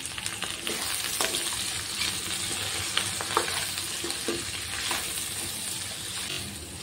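Okra frying in a pan with salt and half a spoon of turmeric, a steady close sizzle with crackles and occasional stirring scrapes throughout, no talking.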